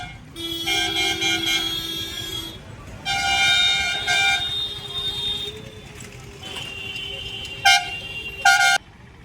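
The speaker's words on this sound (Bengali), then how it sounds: "এই এসে গেছে নীল বাস" A blue bus honks as it pulls away in a busy street, several loud tonal horn blasts, two long and two short, over steady traffic noise.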